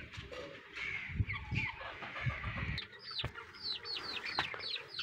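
Chickens cluck and call near a farm with cattle, soft bursts of clucking in the first half and a run of quick bird chirps toward the end.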